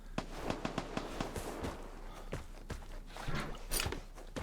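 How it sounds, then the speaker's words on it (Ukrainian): Gunfire in a video game comes as a series of faint, sharp pops, some in quick bursts and some spaced apart, heard at a distance over a quiet background. "Так, хтось стріляється."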